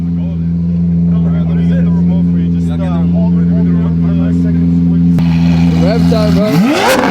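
A V12 car engine with a loud exhaust idles as a steady drone under excited talk and whoops from several people, then it rises sharply into a revving burst near the end.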